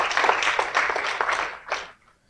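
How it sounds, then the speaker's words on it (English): An audience gives a short round of applause for event organisers, a brief burst of clapping that ends abruptly after about two seconds. "please, another round of applause to Niran and Daya"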